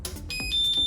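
Autoclave timer in a fish laboratory giving a steady high electronic tone with a few short beeps, close and fairly loud against machine hum.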